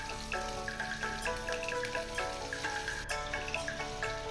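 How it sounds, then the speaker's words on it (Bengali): Cumin and capsicum frying in hot oil in a kadai, a soft crackling sizzle with small popping spatters, low in level and steady, heard alone with no voices. "মধ্যে আমি গরম হলে জিরে দিচ্ছি। জিরেটা একটুখানি ফ্রাই হয়ে গেলে আমি এর মধ্যে দিয়ে দেবো ক্যাপসিকামগুলোকে।"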